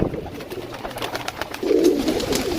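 Desi pigeons coo in soft, low, throaty rolls at close range, with a fuller coo swelling near the end over faint background noise.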